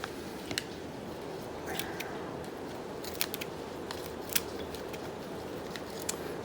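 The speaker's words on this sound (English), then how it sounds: "I gotta cut these roots over here because it's growing outside of the pot" Scissors snip through the roots of a Phalaenopsis orchid growing out of its pot, giving faint, sharp clicks scattered irregularly over a quiet background, a few slightly louder cuts standing out.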